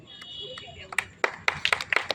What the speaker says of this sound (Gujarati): આપણે સૌ તાળીઓથી તેમને વધાવશું।